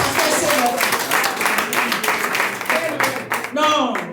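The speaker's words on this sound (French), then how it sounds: "applaudissez pour notre chère directrice" An audience at a gathering applauds its director with a burst of clapping, while voices talk and call out over the applause throughout.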